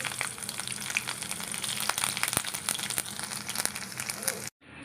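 Fish dal with bamboo shoot is tempered in hot oil, sounding as a steady crackling sizzle with sharp pops, under a person talking, before cutting off abruptly at the end.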